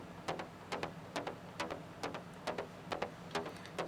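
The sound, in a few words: Zebra synth preset bass line, shaped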